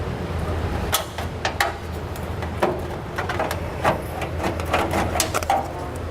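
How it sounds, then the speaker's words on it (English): Tin snips trim a car heat shield on a 2010 Volvo XC60, producing a quick series of sharp metallic snips and crunches in an irregular rhythm, set against a low background hum. "we'll take some tin snips and we'll trim the area"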